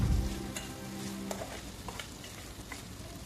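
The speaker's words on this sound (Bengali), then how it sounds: "আলুগুলো দিয়ে আমি মিনিট 2 নাড়াচাড়া করে নিচ্ছি যাতে করে আলুর ভিতরে মশলাটা ঢুকে" Fried potatoes sizzle in a pan of spiced egg curry with onion and green chili, a steady close frying hiss broken by soft scrapes and knocks of stirring.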